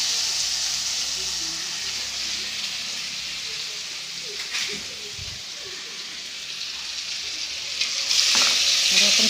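Onions and tomatoes frying for shev bhaji, a steady close sizzle and hiss from the pan with a few soft stirring scrapes, growing louder near the end.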